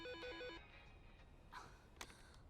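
Telephone bell rings in short repeated bursts for about half a second, then fades into faint room tone and a few light clicks and rustles, with no talking.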